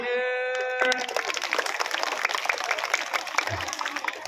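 Students at a kindergarten school break into dense, steady applause for student council candidates at a number draw. A brief tone precedes the clapping, which then carries on loud and even to the end.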